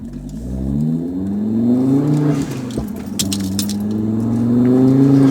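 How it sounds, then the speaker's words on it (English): A turbocharged car accelerates, its engine hum heard from inside rising steadily in pitch and growing louder, with a few light rattles and clinks partway through and no speech. "As soon as that turbo kicks in, man, it just sucks you right back."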